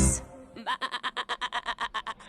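A voice imitates a sheep's bleat in a children's Tagalog farm song, a quick wavering run of about a dozen short pulsing 'meh' syllables, close and fairly soft.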